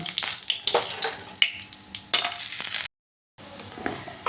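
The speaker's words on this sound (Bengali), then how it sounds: "তেলটা গরম হয়ে গেছে এবার আমি ওই তেলের মধ্যে দিয়ে দিলাম বড়ি" Lentil dumplings (bori) frying in hot oil in a wok: crackling, bursty sizzles and stirring scrapes close up, then a brief silent gap before the frying resumes more softly.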